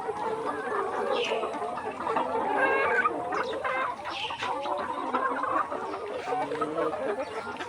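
Layer hens on a poultry farm cluck steadily and densely, many birds overlapping in a constant near chorus with no voices.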